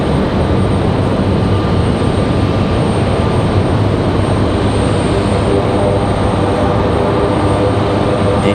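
A C-130 military aircraft takes off at Raleigh-Durham International, its heavy propeller roar loud and steady throughout, with a continuous broadband rumble and no breaks.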